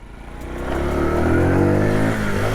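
A 1995 Honda C50 motorcycle pulls away in first gear, its small engine rising in pitch and loudness as it accelerates uphill, close and steady with no talk.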